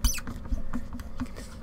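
A screw is forced into a tight hole while a CPU cooler is mounted on a GPU, giving a rapid squeaky, scratchy creaking patter that runs continuously at close range throughout.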